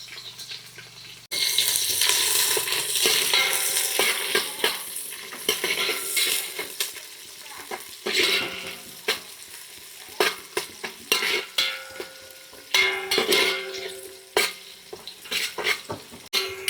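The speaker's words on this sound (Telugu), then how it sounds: "ఉల్లిపాయలు కూడా కొంచెం వేగనిద్దాం" Onions frying in a pan for pesarapappu kichidi, a steady sizzle broken by bursts of stirring and scraping, with water-like hissing surges and clattering utensil taps toward the end; no talking.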